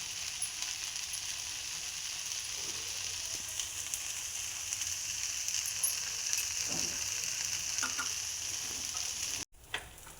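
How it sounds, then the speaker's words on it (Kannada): Rava dosa batter fries in oil on a hot pan over a high flame, giving a steady, close sizzle throughout with a few faint clicks and a brief dropout near the end, and no voices. "ಹಾಕಿ ಸ್ವಲ್ಪ ಫ್ಲೇಮ್ ಜೋರಾಗಿ ಮಾಡಿ ಸುತ್ತಾರಲ್ಲ ಎಣ್ಣೆ ಹಾಕ್ಬೇಕು ನೋಡ್ರಿ"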